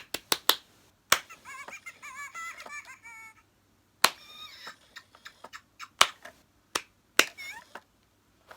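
Close, crisp hand claps, a quick cluster at first and then scattered singles, set off a Fingerlings monkey toy that replies with high, warbling chirps and squeaks between them.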